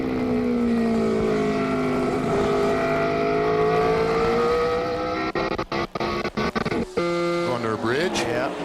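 NASCAR stock car engines scream at high RPM around Watkins Glen road course, a sustained loud whine with shifting pitch, choppy dropouts near the end, then a rising rev as cars pass, with a voice talking over it.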